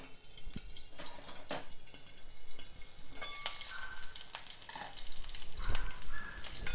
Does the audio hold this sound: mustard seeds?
yes